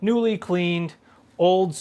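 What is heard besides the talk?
None of the usual background noises is heard.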